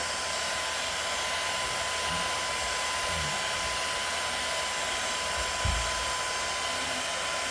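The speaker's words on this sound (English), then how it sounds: "I just use a blow dryer. It does just as good a job." A hair dryer drying paint on a vase blows continuously and loudly at a steady pitch for the whole stretch, with a few faint low bumps beneath the roar.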